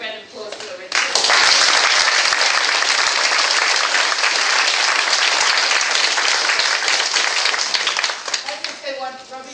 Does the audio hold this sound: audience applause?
yes